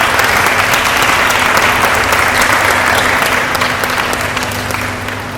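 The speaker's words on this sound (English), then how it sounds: "So clap your hands for that." A crowd at a junior schools badminton league event in Jamaica applauds a team's sixth-place finish, loud sustained clapping with a few whoops that gradually fades toward the end.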